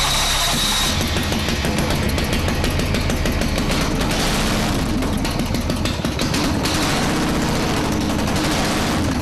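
A custom-built motorcycle engine fires up and revs with a rough, loud, rapid staccato of exhaust pops close to the microphone, holding strong and uneven over nine seconds.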